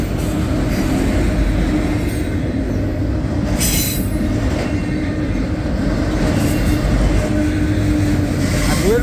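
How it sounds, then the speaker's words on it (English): CSX freight train of Conrail hoppers and autorack cars rolling past close by, a continuous loud rumble of wheels on rail with intermittent high squeals and clicks. "So a lot of Conrail cold hoppers and now some Conrail Autorack."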